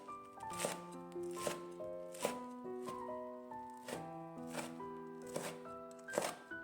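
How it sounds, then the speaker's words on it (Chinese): Fried dough sticks (youtiao) chopped finely with a kitchen knife on a board, a steady run of close, crisp knife strikes, several quick taps between louder chops, with a faint musical background underneath. "接下来准备2根油条，把它切碎，尽量切碎一点。"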